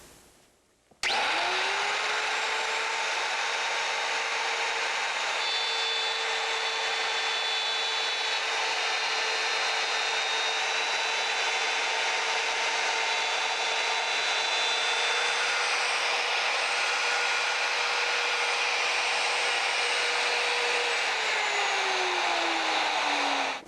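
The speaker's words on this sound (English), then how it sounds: "Before powering up your router, make sure you're using eye protection," A wood router powers up and cuts end graft material clamped in a luthier's end graft vise, holding a loud, steady high-pitched whine with a harsh cutting rasp for about twenty seconds before spinning down at the end.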